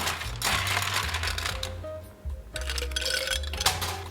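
A bourbon cocktail shaken briefly in a cocktail shaker, a close, steady rattling and churning of ice, with a short pause partway through before the shaking resumes.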